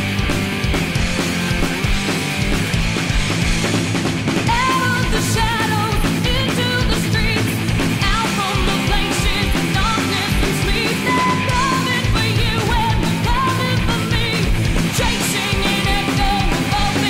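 The heavy metal song plays from a cassette, with loud driving guitars, drums and vocals running continuously at full volume.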